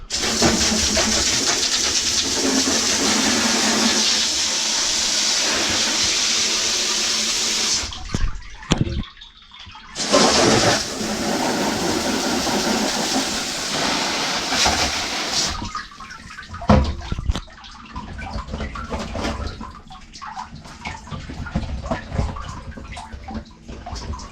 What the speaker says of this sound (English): I'm just going to hose most of this down.